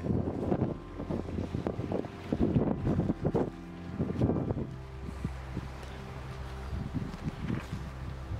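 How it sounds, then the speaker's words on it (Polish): Wind buffets the microphone outside an abandoned guesthouse, with heavy low rumbling gusts that come in waves and then settle into a steadier, softer rush, loud and close. "ale wieje"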